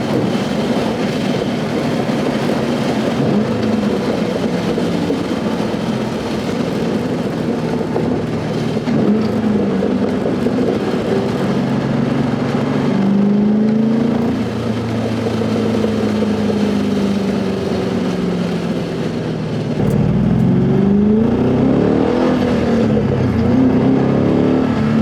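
A car engine revs up and drops repeatedly through a couple of downshifts, a loud continuous drone with rising and falling pitch heard from inside the moving car, with no talking.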